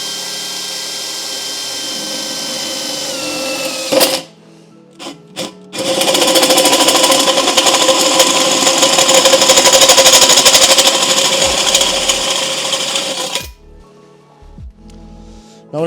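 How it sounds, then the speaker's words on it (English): A hole saw cutting into an intercooler pipe for a drag-racing Subaru WRX build, a loud, harsh buzzing whir in two bursts, the longer second run grinding steadily for several seconds before stopping, with brief clacks between. "you're using one of the hole saws like that, they're never gonna make a super perfect circle just because of the nature of the tool"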